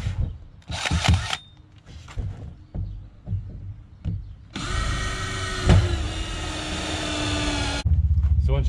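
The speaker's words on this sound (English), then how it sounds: "Once you've drilled your hole, you're ready to put your screws in." A power drill bores holes in a plastic fishing kayak, a few short trigger bursts followed by a sustained loud whirring run of about three seconds, close up, with some handling knocks and a voice nearby.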